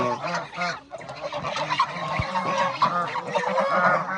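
Several geese honk loudly and repeatedly nearby on a small farm, their nasal calls overlapping in a noisy, continuous chorus.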